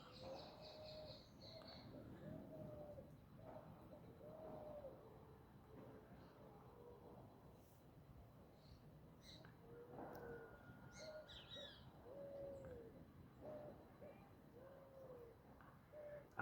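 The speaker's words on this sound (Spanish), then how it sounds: "Ahí escuchamos una paloma torcaza." An eared dove cooing outdoors at the end of the day, soft low repeated coos at a distance over faint rural ambience with other birds calling, quiet throughout.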